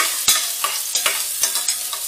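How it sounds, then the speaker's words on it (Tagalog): Sliced onions sizzle in a hot pot for a Filipino budget spaghetti, with a steady frying hiss broken by several sharp scraping stirs of a spoon at a regular pace, close and alone without talk. "Ibigas natin yung sibuyas."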